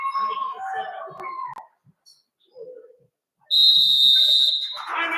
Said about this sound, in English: That whistle's very loud.